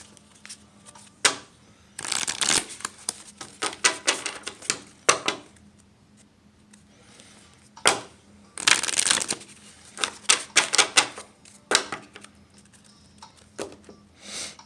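Tarot cards are shuffled in short bursts of crisp riffling and slapping, with quiet pauses between the rounds, close and clear.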